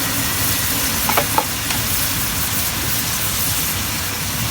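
Onions frying in a pan with garlic and ginger paste for khichuri, a steady broadband sizzle that holds evenly throughout, with a couple of faint clinks partway through.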